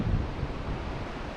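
Surf rolls in along Muriwai Beach, a steady low roar of breaking waves mixed with wind buffeting the microphone, continuous and fairly soft with no voices.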